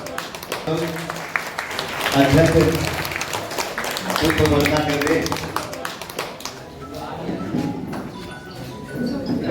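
Audience clapping at a ceremony welcoming an honoured guest, a moderate patter of many hands running beneath someone speaking over a microphone, with a few sharper taps standing out.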